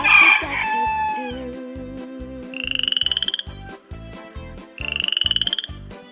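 A frog gives two loud, rapid, rattling croak bursts over a steady bouncy music beat, just after the tail end of a rooster crow at the start.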